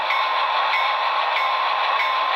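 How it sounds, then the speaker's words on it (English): A model train locomotive bell on an Athearn Genesis DDA40X rings continuously with a steady, bright metallic clang, loud and close, with no talk. "bell sound,"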